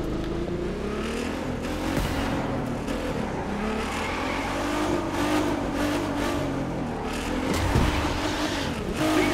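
Car engine in The Crew 2 racing game during a drift event, a steady droning, revving motor with tyre noise that stays loud and continuous, no speech over it.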